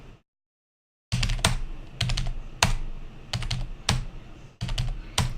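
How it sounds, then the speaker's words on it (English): Computer keyboard keys tapped while playing Shaq Fu, after a second of silence a run of sharp, close clicks comes in quick clusters of two or three at an irregular pace. "there you can probably hear the keyboard tapping of when I hit Y to continue on with the next one"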